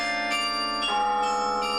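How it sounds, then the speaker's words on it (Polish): Several bells of a concert carillon in Gdańsk ring in turn, clear sustained tones overlapping as new strikes come every half second or so, with long ringing decay. "Gdańsk to jedyne miasto w Polsce, które posiada karilon koncertowy"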